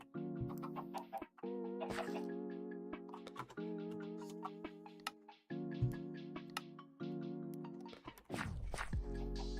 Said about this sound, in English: I just don't want extremely loud amount of chickens.